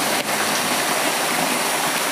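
A forest waterfall in Kalimantan, Borneo, pours in a steady, dense rush of falling water, close and continuous with no voices over it.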